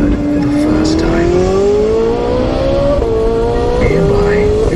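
A newly built Ferrari engine runs for the first time in the factory, a loud, continuous, close engine drone whose pitch climbs slowly and steadily.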